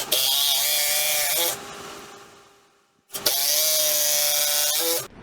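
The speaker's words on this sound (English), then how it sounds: "So now I'm just going to run screws up from the bottom to brace the drywall." A power drill drives screws up from underneath into a wooden brace board holding drywall around a pull-down attic stair opening: two long, close whirring bursts separated by a short pause, with no talking.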